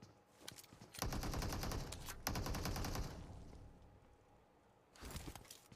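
Automatic gunfire from an M4 and an AK in PUBG Mobile during a close-range 1v1 in a pro league match, heard as sustained loud bursts with a brief break, a pause, then another burst near the end.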